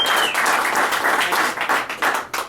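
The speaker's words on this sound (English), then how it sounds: "You don't have to clap because you felt bad." A comedy-club crowd at an ale house claps loudly, a close, dense burst of many hands that holds steady, then thins to a few scattered claps near the end.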